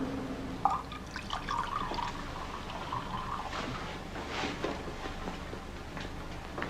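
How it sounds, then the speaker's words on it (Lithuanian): Hot water trickles and drips from a tap at low volume, with a few brief louder gushes partway through. "pripilsiu karšto vandens iš krano"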